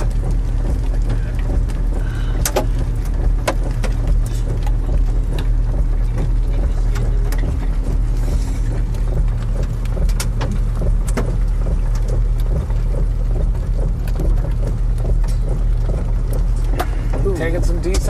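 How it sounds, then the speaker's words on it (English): Hail pelting a storm-chasing truck parked under a stationary storm, heard as scattered sharp clicks and knocks over a steady low vehicle rumble. "Taking some decent hail here."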